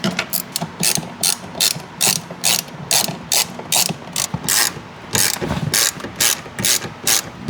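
A ratchet working 10 mm bolts loose on a Nissan 370Z Nismo shifter, with rapid bursts of loud clicking repeating in a steady rhythm, close up with no talk.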